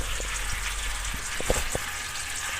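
Transmission fluid drains from a car's pulled-down transmission pan, a steady close trickle and gush of liquid with a few small splashes or drips.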